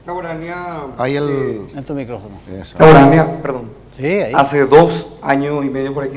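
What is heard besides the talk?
No distinct noise like a dog, phone or traffic.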